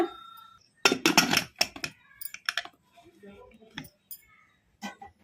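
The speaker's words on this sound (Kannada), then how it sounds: "ಈಗ ಇದಕ್ಕೆ ಕುಕ್ಕರ್ ಮುಚ್ಚಳ ಮುಚ್ಚಿಟ್ಬಿಡೋಣ." A pressure cooker lid being closed, a cluster of sharp metallic clanks and clicks, then several lighter scattered taps at close range, with short silences between.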